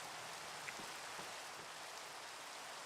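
Steady rain in Minecraft falls as a soft, even hiss of drops, faint and continuous with no voices over it.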